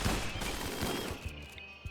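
Turrets firing in RimWorld, a rapid burst of gunfire filling the opening, then a few separate sharp shots trailing off, loud and close.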